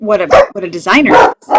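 A pet dog barks and yips several times in quick bursts indoors, loud and close, mixed in with a person talking over it.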